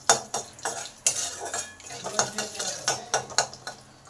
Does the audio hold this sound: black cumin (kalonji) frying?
yes